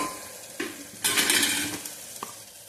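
Spices frying in oil for a green pea masala rice, a close sizzle that swells into a loud burst of hiss, then settles, with a few utensil clinks around it.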